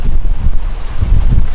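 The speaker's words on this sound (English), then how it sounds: "Look at that big gust of wind going down there" Strong wind in a Boise, Idaho dust storm buffets the microphone, a loud, low roaring rumble that swells and dips in uneven gusts across the short stretch.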